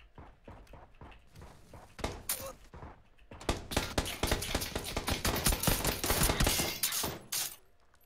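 A shooter video game gives off a rapid, irregular volley of gunshots that starts sparse and then swells into a loud, sustained burst of fire before stopping abruptly.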